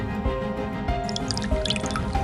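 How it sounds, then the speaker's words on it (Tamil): Liquor poured into a glass during a late-night drinking session, a steady liquid trickle with drips and gurgles running throughout, close and fairly quiet. "அதுக்கு முன்னாடி சரக்கு ஊத்து."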